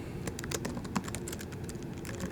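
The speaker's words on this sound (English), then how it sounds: "So I can type in" Typing on a computer keyboard, rapid, irregular clicks of keys close to the microphone, fairly quiet and with no talking.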